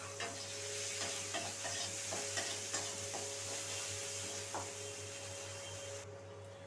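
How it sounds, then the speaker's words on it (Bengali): Chopped onion frying in a pan, a soft continuous sizzle with scattered stirring scrapes and crackles, fairly quiet over a constant background hum. "এই পেঁয়াজ কুচিটা একটু লাল লাল করে ভেজে নিতে হবে।"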